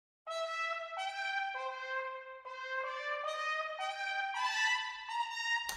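A big band horn section, an Orchestral Tools Glory Days sample library, plays a string of short doo-wop phrases, each note bending into the next, bright and clear with no talking.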